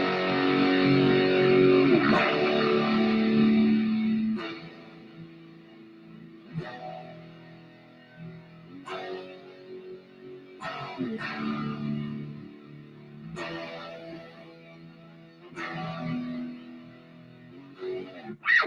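Distorted electric guitar in a drop tuning plays a chorus riff with effects, loud and steady at first, then repeating chopped phrases with short gaps between hits, with no talk over it.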